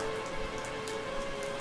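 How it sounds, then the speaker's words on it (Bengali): Heavy rain falling outside a temple, a dense continuous patter of drops heard without any talking. "বাইরে বৃষ্টি আরম্ভ হয়েছে।"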